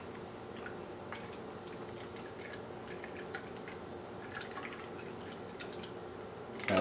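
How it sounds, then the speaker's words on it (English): A ginger martini cocktail is poured into a glass, heard as faint, soft liquid trickling and dripping with a few light splashes, steady and quiet throughout with no talking. "And pour it into the glass. It might be a little bit foamy,"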